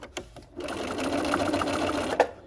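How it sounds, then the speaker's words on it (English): A sewing machine runs in a steady continuous burst stitching across the corner of a dog leash, preceded by a couple of brief clicks, loud and close with no talk. "Sew across one more time here."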